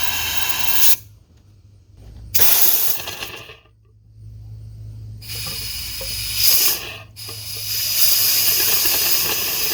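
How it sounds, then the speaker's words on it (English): Compressed air blasting through R-134A automotive A/C components being flushed dry, loud hissing bursts that cut off and restart several times, with short quiet gaps between the blasts. "we'll just want to keep the air on it until we see no more stuff coming out of any of the components"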